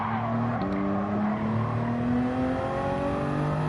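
A race car in Gran Turismo 7 brakes too late and skids, its engine droning steadily as tires squeal in long sustained tones that shift pitch partway, loud and continuous with no voices.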